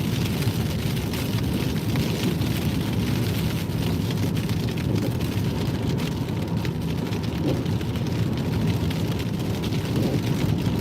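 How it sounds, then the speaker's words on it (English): Heavy, humongous snowflakes fall north of London, producing a steady, dense hiss like rain pattering on surfaces, continuous and fairly loud with no voices. "Sounds like rain, but it is full on snow."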